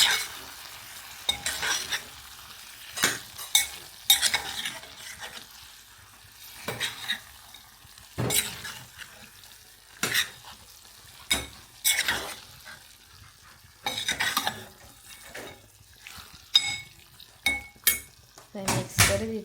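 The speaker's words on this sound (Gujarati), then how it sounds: "હવે આપણે મિક્સ કરી દઈએ ફટાફટ." Paneer being stirred into matar paneer in a pan, the spoon scraping and clinking against the metal in brisk repeated strokes over a soft background sizzle, close and fairly loud, with no talking.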